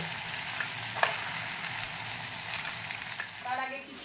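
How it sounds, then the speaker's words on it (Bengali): Rice being dry-fried in a pan gives a soft, even, fairly quiet sizzle with a couple of light utensil clicks and a brief rustle near the end, no voices. "এখন ভালো করে চালটাকে আমি ভেজে নিচ্ছি"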